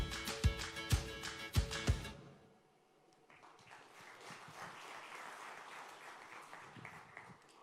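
An audience bursts into clapping after a product presentation: a few sharp, loud claps at first, then a brief lull and a softer, steady wash of distant applause.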